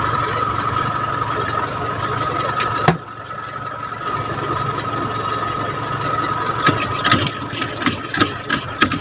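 A vehicle engine idles steadily and close by while clutch fluid is bled, a constant mid-pitched hum with a sharp clack partway through and scattered clicks and rattles later.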